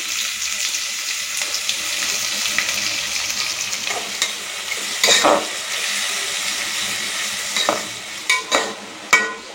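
Chopped onions frying in a pan with cardamom and star anise for mutton biryani, a steady close sizzle under occasional sharp spoon scrapes and clinks, no talk.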